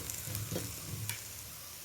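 A soft, low stirring and faint sizzle as coriander, turmeric and asafoetida powders are worked into masala in a hot pan for a beef bone curry, quiet and close with no voices.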